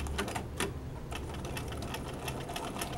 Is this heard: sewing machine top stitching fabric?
yes